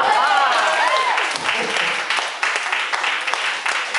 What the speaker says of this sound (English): A round of applause for my poem.